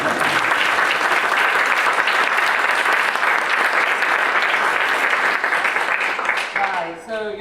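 An audience applauds a discussion panel at a conference event, loud sustained clapping from a sizeable crowd that fades out near the end as a voice begins to speak.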